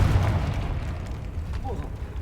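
A Confringo fire spell blast goes off in a video game, a deep booming burst that rumbles briefly while a voice talks over it.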